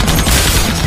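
Heavy gunfire erupts as police officers are shot down in an action film, a dense, loud, continuous roar of shots and blasts filling the moment with no pauses.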